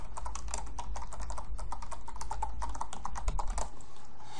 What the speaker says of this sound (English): we're going to go ahead and type in our domain name